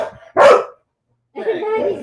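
A small dog gives a short burst of barking, close and fairly loud, then a pause before more yapping mixed with people talking nearby.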